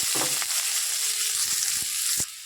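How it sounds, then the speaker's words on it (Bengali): Onions hitting the leftover egg-frying oil in a wok give a bright, steady sizzle, close and fairly loud, with a few soft clinks and stirring knocks before the frying noise drops away near the end. "এই ডিম ভাজার তেলটাতেই এবার আমি পেঁয়াজটা দিয়ে দেবো আগে কড়াইতে কিন্তু আর তেল দেব না এবার পেঁয়াজটা দিয়ে দিয়েছি"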